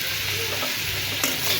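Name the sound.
ginger, garlic and chillies frying in a pan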